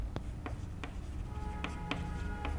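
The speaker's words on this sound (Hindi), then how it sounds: "तो मैं लिख देता हूँ कि" Chalk or marker writing on a board during a maths lecture on vector algebra: a string of quick, distinct taps and short strokes, faint and unevenly spaced over a low room hum, with no speech.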